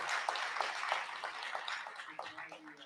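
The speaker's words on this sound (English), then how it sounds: "Let's give Jeremy a round of applause." An audience at a school panel discussion gives a round of applause, a moderate, somewhat distant patter of clapping with separate claps standing out as it thins toward the end, and some voices mixed in.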